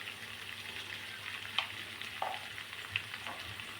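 Pepper chicken dry fry cooks on a slow flame, a quiet steady sizzle with occasional soft stirring scrapes and clinks, close and without talking.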